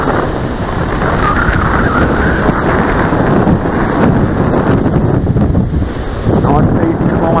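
Strong wind at a beach roars across the microphone as a loud, constant rush with gusty swells throughout.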